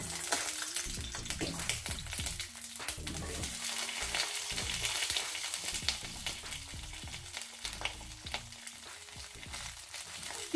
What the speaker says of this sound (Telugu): ఈ దొండకాయలు ఇలా వేసుకొని ఒక 7-8 నిమిషాల వరకు ఇలా కలుపుతూ మధ్యలో కలుపుకుంటూ మూత పెట్టేసుకొని ఉడికించుకోవాలి